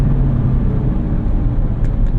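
The 2016 Corvette C7 Z51 engine gives a steady, close, loud mechanical hum and rumble as the automatic rev match comes in during a downshift, with no talking.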